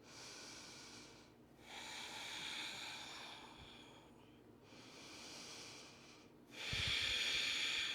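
Slow, audible yoga breaths taken while holding a supported deep squat, three long airy hisses of inhale and exhale with short quiet gaps, close and fairly soft, no talking.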